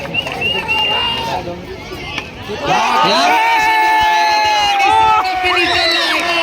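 Crowd at a women's cricket match in a housing society, with a loud mix of cheering, whoops and shouting that grows after a brief dip and stays dense and close, with voices through it.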